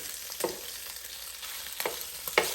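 Cabbage sautéing in a pan gives a quiet, steady sizzle, broken three times by short scraping strokes of a utensil as it is stirred, with no one talking.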